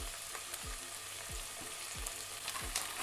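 Vegetables and mushrooms sizzle in a pan with soy sauce over low heat, a soft steady frying hiss broken by regular low thumps of stirring, quiet and close.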